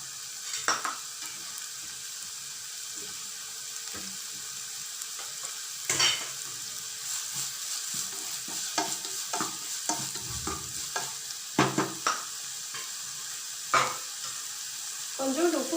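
Fried noodles are stirred in a hot pan, giving a steady close sizzle broken by irregular scrapes and clinks of the utensil against the pan.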